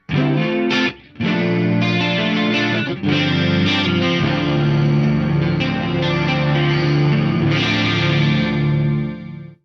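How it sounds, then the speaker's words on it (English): A heavily processed electric guitar rings out with a shimmering chorus preset on a Meloaudio MIDI Commander, sustained chords played loud with a couple of brief pauses. "this is a chorus sound"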